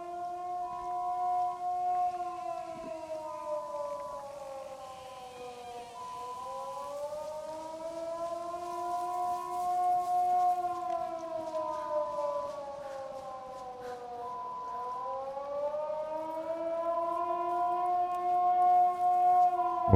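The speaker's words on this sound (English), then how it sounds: "that siren indicates that someone's gone into the military compound" Civil defense siren in the video game DayZ, signaling entry into a military compound: a loud wailing tone rises and falls in slow sweeping cycles, sounding alone and steady throughout.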